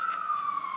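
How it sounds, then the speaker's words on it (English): An emergency vehicle siren wailing outdoors, a steady tone drifting slightly downward as it passes, moderately loud and alone. "These freaking sirens, bro."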